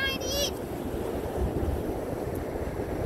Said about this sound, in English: It is crazy windy out here